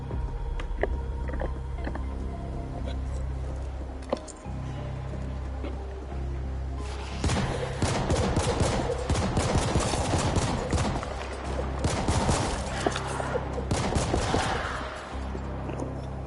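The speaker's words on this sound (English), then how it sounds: "I'm going to need to get used to the shooting mechanics." Gunfire in The Ascent video game, a dense continuous stream of rapid shots and impacts over a low steady game soundscape, growing busier and louder in the second half.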